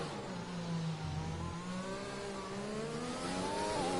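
A Mercedes Formula 1 car's engine drones steadily through a lap, its pitch climbing and shifting with gear changes, loud and close with no voices over it.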